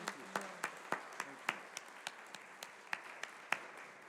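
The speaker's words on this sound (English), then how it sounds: "let's give a great round of applause." A small audience at a parish evening gathering claps sparsely, with a dozen or so separate, distinct hand claps spread at an uneven pace, fairly faint in a quiet room.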